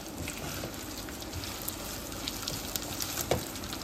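Fried soya chunks tossed in a pan for Soya 65 give a faint, steady sizzle with a few small scrapes and clicks of stirring, close and continuous with no talk.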